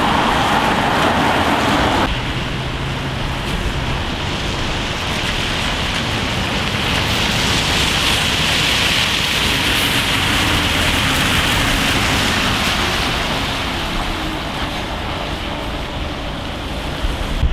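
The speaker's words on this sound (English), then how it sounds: "Rain hammering down" Heavy rain hammers down under an umbrella on an August 2025 street in Derry or Letterkenny, a loud, unbroken downpour hiss running throughout with a faint rumble of passing traffic beneath.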